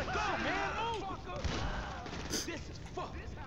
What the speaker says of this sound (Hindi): shot gun shot gun